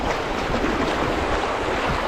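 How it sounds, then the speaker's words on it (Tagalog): Strong water current rushing over and among rocks, a steady broadband roar that stays loud and close without a break. "Lakas yung agos dito. Mabato."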